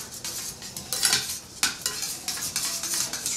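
A utensil stirs butter into a sizzling pan sauce for dove breasts, with quick scraping and clinking against the pan over a steady fry, close and fairly loud.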